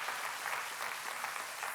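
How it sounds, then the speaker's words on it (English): Church congregation applauding steadily for just under two seconds, a dense, even wash of clapping with no break and no voices on top. "let's give him a big applause"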